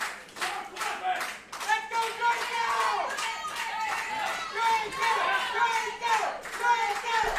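A wrestling crowd claps in a fast, steady rhythm with scattered cheers, loud and sustained, while a commentator talks over it.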